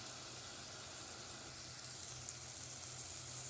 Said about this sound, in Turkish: Soğanımız, biberimiz kavruldu.